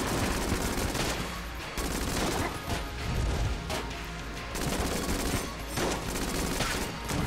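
Dense, nearly continuous gunfire from the bullet-hell game Enter the Gungeon: rapid-fire shots blur into a loud, harsh roar with brief dips, layered with mechanical clanks and crashing impacts.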